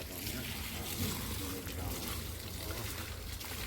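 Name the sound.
water being filled from a tap on a farm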